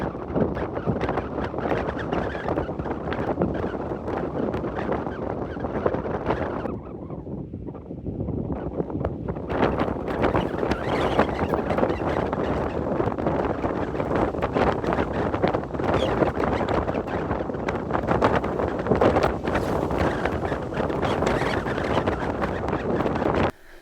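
Strong wind roars and buffets the microphone continuously on a cliff top, loud and gusty, with a brief lull partway through.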